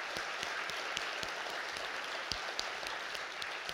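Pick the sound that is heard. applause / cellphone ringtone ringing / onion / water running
applause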